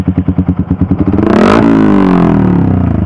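Yamaha R15 motorcycle with a custom Termignoni racing exhaust, starting with a loud, rapid pulsing idle burble, then a sharp rev that swells to a roaring peak and settles into a deep, steady drone, close and alone.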